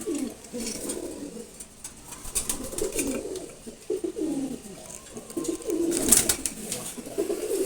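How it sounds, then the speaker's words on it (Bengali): A red checker pigeon coos in repeated soft, low rolling phrases, fairly close, with faint background noise and no talk. "তারপর এখানে রেড চেকার কবুতর আছে"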